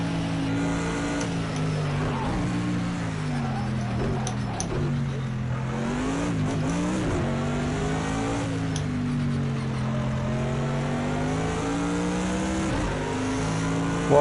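A loud Bentley GT3 race car engine roars continuously in the Project Cars 2 racing game, its pitch sweeping up and down with gear changes and throttle lifts as it laps a track, with no voices.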